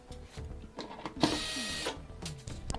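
A power driver backs out the perimeter screws holding a panel on a Whirlpool washer, giving a close, steady whirring buzz that lasts about a second amid fainter clicks and handling noise.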